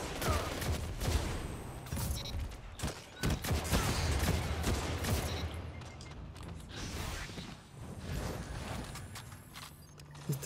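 The Dark Decider auto rifle in Destiny 2 fires in rapid sustained bursts, a dense rattling stream of close shots with mechanical clicks, continuing with brief dips over about ten seconds.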